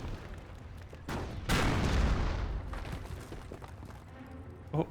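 A Panzer IV tank fires into hedges in Company of Heroes, making a single heavy boom with a long rumbling crash that fades over a few seconds above battlefield background noise.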